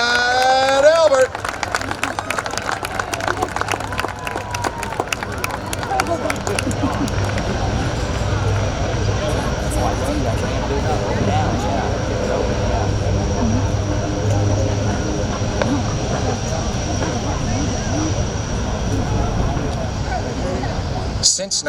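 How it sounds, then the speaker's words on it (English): The U.S. Navy Blue Angels C-130 transport plane "Fat Albert" flies at the 2025 Columbus Air Show, its propeller engines producing a steady, loud roar that continues throughout while an announcer speaks over it. "with the stars and stripes flying proudly above the cockpit, the Blue Angel C-130."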